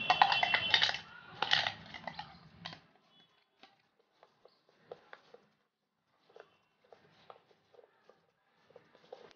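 Spoon clinking and scraping in a bowl while ground coconut, tomato and garlic paste is mixed for a dry fish curry base, with a brief burst of louder handling noise at the start followed by sparse, quiet clinks.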